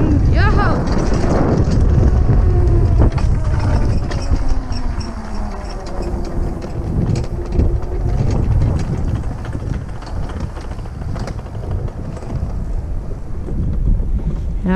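A homemade go-kart rebuilt from a kids' pedal kart rattles loudly as it drives downhill, a continuous rumbling clatter with heavy wind buffeting on the microphone and voices speaking at times.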